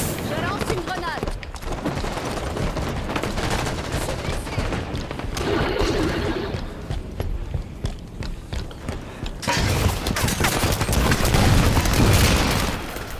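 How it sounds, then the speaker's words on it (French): A grenade blast and steady gunfire in Halo 5: Guardians, dense and loud throughout, with a heavier burst near the end. "Je lance une grenade."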